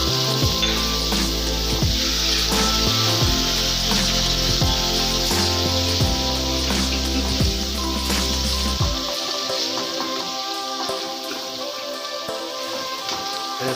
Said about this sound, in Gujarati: જે આપણે લસણ મરચાંની પેસ્ટ બનાવી છે એડ કરી દઈશું।